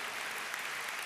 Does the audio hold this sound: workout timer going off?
no